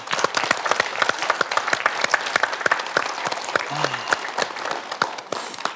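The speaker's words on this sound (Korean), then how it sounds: "위로와 격려의 박수 부탁드립니다." A Korean TV studio audience applauds steadily, many hands clapping at once in a dense, even roar that carries on alone for several seconds.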